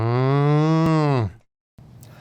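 A single long cow moo, loud and close with a rich harmonic drone that dips at the end, then breaks off into a short silence before a faint murmur of background noise.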